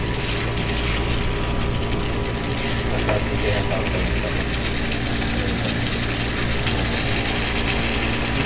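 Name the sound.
green chilies frying in a pan for palak paneer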